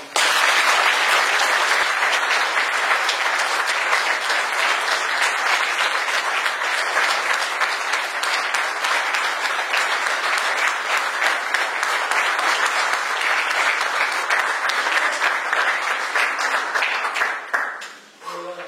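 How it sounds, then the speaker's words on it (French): Audience giving long, loud, steady applause as a tribute at a pétanque club gathering, a dense roar of clapping lasting many seconds before stopping abruptly near the end. "on lui fait un tonnerre d'applaudissements à notre ami"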